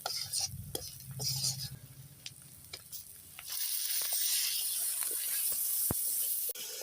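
Potatoes stir-fried with spice masala in a pan for a fish head curry: clinking spatula strokes and stirring scrapes at first, then a steady louder sizzle with sharp metal taps.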